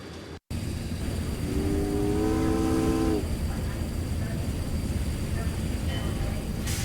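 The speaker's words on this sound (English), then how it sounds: "The train is leaving!" In the adventure game Secret Files: Tunguska, a departing train gives a long tonal horn blast over steady rolling rail rumble that continues loudly throughout.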